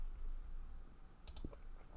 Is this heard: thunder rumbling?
no